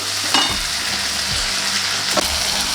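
Two chopped tomatoes frying in a hot pan with oil, a continuous loud close sizzle and crackle with a couple of soft stirring scrapes and knocks.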